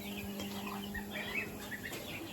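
Young broiler chicks on a small farm cheep and peep softly and continuously, a busy chorus of small calls heard close by with no talking.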